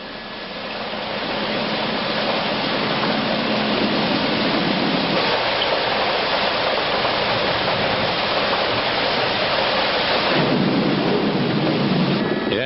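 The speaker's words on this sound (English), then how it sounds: "this whole area is still under rain and it's pretty well drenched" Heavy rain pours steadily over Kuala Lumpur with rolling thunder rumbling underneath, a dense continuous roar throughout.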